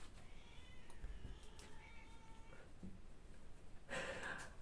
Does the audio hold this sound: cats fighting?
yes